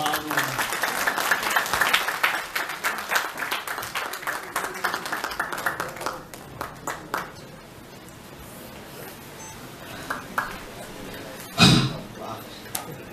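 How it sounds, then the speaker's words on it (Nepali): Applause at a Nepali Christian church Christmas gathering welcoming a church elder, a dense burst of clapping that gradually thins into scattered claps, followed by a sharp knock near the end. "हामी उहाँलाई ताली बजाएर स्वागत गर्न"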